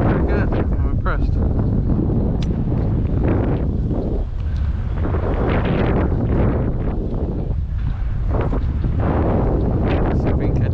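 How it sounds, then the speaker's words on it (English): Strong, gusty wind buffets the microphone while fishing from a boat, a loud, fluctuating rumbling roar that surges and eases throughout. "It's super windy"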